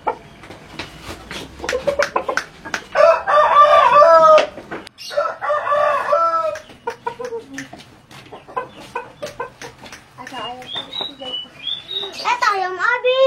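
A rooster crows at a Sundanese village scene, its calls rising high and near amid chickens clucking, with people talking and laughing over much of it.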